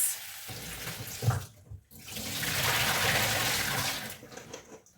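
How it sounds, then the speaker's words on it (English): Warm water runs steadily from a tap for a few seconds for washing food, with brief clunks and handling noises before the flow, then trails off. "After adding your salt, go in with your warm water."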